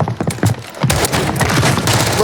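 Dense, loud gunfire rattles through a Warzone match, heard close among overlapping bursts and impacts while players talk excitedly over it.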